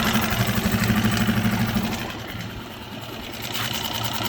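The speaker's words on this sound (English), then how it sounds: "So it's idling." A Suzuki outboard motor idles close by with an even, rapid putter that softens partway through and then steadies again, with no talk over it.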